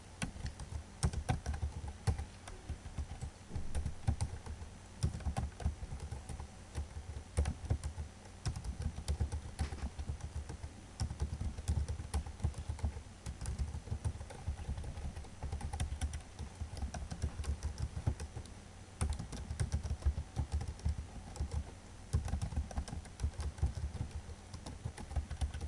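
Steady, fast typing on a computer keyboard while writing HTML code, dense clicking keystrokes running continuously and close up with no talking.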